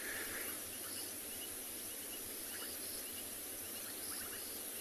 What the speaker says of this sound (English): The frogs are going mad.